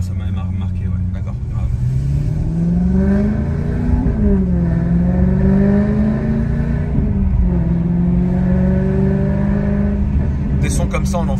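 Sports car with a stainless steel X-pipe exhaust revving up and down close by, a deep burbling engine note rising and falling in a couple of long pulls before settling, with voices briefly audible near the end.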